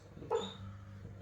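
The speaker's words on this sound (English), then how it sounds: "that's a dog dreaming." A single brief, muffled yip or whimper from a dog dreaming rises quickly and fades within a second, fairly faint against a quiet room hum.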